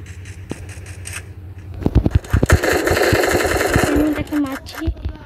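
Rapid automatic gunfire bursts out in a video game as an enemy is shot down, loud and close, starting with a few separate shots and then becoming a dense, sustained rattle, with a voice talking over it.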